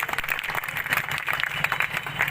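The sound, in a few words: crowd applauding to welcome the MLA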